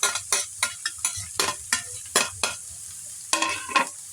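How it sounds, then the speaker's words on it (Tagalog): Dabong (bamboo shoots) with sardines stirred in a pan, a dozen or so sharp spatula scrapes and taps at an irregular rhythm over a low sizzle, close and clear. "Haluin natin."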